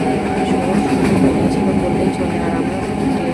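A train rumbles along in a loud, continuous low roar, heard from inside.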